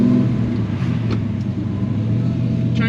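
A 1971 Ford XY GT Falcon engine rumbles steadily at idle and low revs, a close, continuous low-pitched drone throughout with no clear revving.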